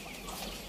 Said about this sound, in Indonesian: sepasang ayam cemani lidah hitam